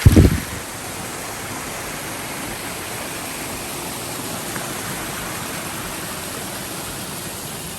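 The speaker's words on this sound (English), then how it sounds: "The river's like really full" A river swollen after heavy overnight rain rushes along beside an Appalachian Trail path, a loud, constant broadband roar of churning water that holds steady throughout, close by.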